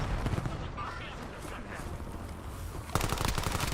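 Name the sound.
shotgun fire in video game Call of Duty Warzone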